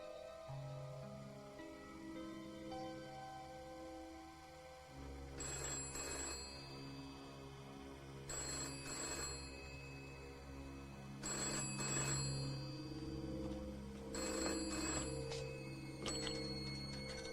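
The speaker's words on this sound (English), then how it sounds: "I'm ringing to ask if you're missing any dogs." A telephone rings in repeated bursts, four or five clear rings spaced a few seconds apart, fairly quiet over a low background hum, with no talking.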